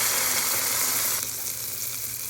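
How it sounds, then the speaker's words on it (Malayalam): Bun dosa batter fries in hot oil with a continuous, loud, close sizzling hiss that eases slightly partway through; no talk is heard. "എണ്ണ അത്യാവശ്യം നന്നായിട്ട് ചൂടായി കഴിഞ്ഞ് കഴിയുമ്പോൾ നമ്മുടെ ബാറ്റർ നമുക്ക് അതിലേക്ക് അങ്ങ് ഒഴിച്ചു കൊടുക്കാവേ."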